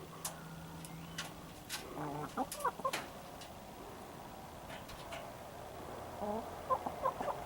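A hen clucks softly in short, scattered bursts, close by over a quiet background, with a few louder clucks toward the end.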